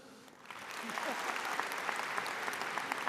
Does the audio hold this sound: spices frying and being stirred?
no